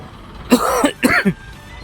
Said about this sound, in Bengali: আর এত কাশি হচ্ছে